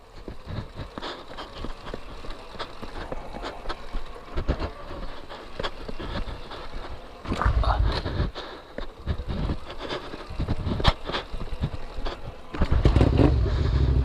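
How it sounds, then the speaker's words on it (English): A 2006 Suzuki SV650S sport bike is bump started, with steady rolling and rumbling noise, then louder bursts near the end as the engine catches and runs. "I am just going to bump start the bike."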